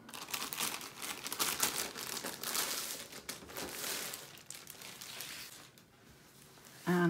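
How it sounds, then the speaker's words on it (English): A diamond painting kit package being ripped open: a sustained close run of crinkling, tearing plastic and paper rustles that fades toward the end, with no talking. "To rip it open."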